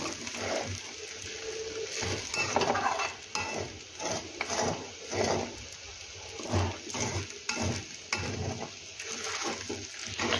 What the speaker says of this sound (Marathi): हे सर्व आपण छान असे मिक्स करून घेऊया।